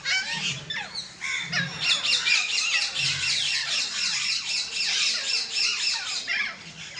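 Harsh, repeated parrot squawks in a rapid, chattering series, fairly close and loud, with no talking.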